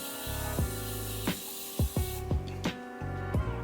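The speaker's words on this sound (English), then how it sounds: "Take this Morphine Continuous Setting Mist to set or to soak up any leftover powder" Several short hissing bursts from a Morphe Continuous Setting Mist spray bottle, spritzed close up over a steady low background hum, each puff brief and fairly quiet.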